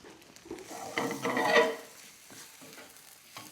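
Garam masala and turmeric frying in a pan with softening onion, a soft sizzle and a brief burst of stirring and scraping that swells and then fades back to a quiet hiss.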